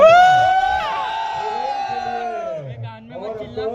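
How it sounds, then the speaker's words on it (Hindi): An event audience roars with loud cheering and whoops, voices shouting over one another in a sustained crowd din that eases slightly toward the end. "जोरदार तालियां और हल्ला है एकदम"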